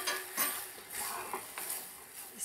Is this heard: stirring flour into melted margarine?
yes